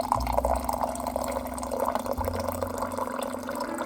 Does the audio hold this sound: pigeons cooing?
no